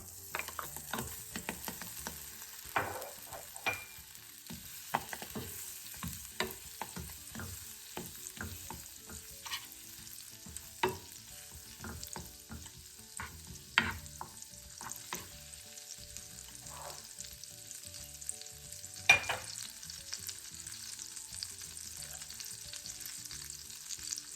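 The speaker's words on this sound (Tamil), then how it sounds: "இப்போ இதுக்குள்ளே நாங்கள் இந்த பட்டரை போட்டுக்கொள்வோம்" Butter melting into hot ghee for rava laddu, sizzling and frying steadily with a spoon stirring and scraping the pan, occasional sharper clicks of the utensil against metal, close and continuous, with no speech.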